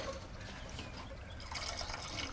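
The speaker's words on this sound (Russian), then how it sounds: "Вот капает." Liquid drips and trickles from a loose fitting on a D-240 diesel engine fitted in a ZIL crane truck, a steady close wet patter that picks up slightly near the end, with no talking.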